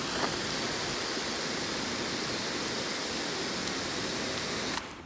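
A garden hose sprays water over waxed car panels, a steady broadband hiss and splatter held close and constant, cutting off abruptly at the end.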